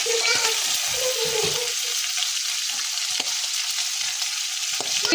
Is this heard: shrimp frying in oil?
yes